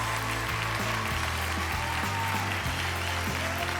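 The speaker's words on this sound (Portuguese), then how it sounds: "Todo mundo aplaudindo você de pé aqui no nosso estúdio" A standing studio audience applauds a finalist on a televised singing competition, a steady wash of clapping that runs throughout under loud music with a deep stepping bassline.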